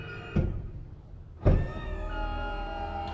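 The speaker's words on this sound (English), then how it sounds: "the button here next to the steering wheel deploys the ramp" A power wheelchair ramp deploys on a 2008 Toyota Sienna XLE minivan with rear entry: two close mechanical thunks followed by a steady electric motor hum that continues to the end.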